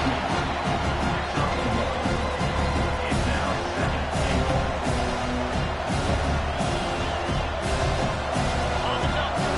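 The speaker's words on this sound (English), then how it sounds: "This crowd is trying to inspire this defense to make a big red zone stop." Dense, continuous roar of a large college football stadium crowd, loud and sustained, with cheering and shouting blending into a steady wash of noise as the home defense faces a goal-line play.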